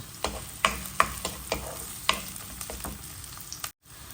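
Sliced garlic frying in a pan for palabok gives a faint background sizzle, cut by several sharp scraping taps of a utensil stirring, with a brief silence near the end.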